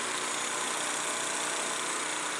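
A snowblower engine runs steadily with its auger turning, a loud, constant mechanical drone that continues unbroken with no voices.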